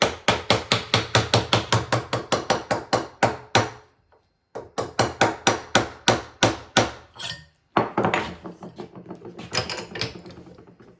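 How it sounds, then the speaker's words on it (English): Steel hammer blows seating a desert ironwood handle tightly onto a hunting knife, a fast run of sharp, evenly spaced strikes that pause briefly, resume, then trail off into softer, irregular taps. "I'll drive it on just the last little bit with a hammer"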